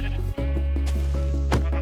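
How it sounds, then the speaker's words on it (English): Sheep bleating in the video game Minecraft, a short sustained call over steady low background music, with a brief dropout and a second bleat near the end. "we can now also find sheep of other colors in cold and hot biomes."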